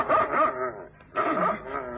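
A dog named Tootsie gives a short run of yipping, whining barks, two bursts separated by a brief pause, close and fairly loud with no talk over them.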